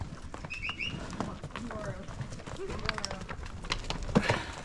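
Horses' hooves clomping over a fallen tree on an Arizona desert trail during a long horseback ride, irregular thuds and scrapes close by, with birds and people talking quietly in the background.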